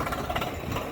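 A tractor engine runs in a muddy, waterlogged paddy field during the rice harvest, a low rumbling drone heard at a moderate distance and fairly faint, steady for the whole second with no one talking.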